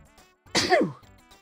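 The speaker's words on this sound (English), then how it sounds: "Oh, sneeze." A single sharp sneeze bursts out loudly and close, rising quickly and fading within about half a second, with only faint, quiet sounds before and after.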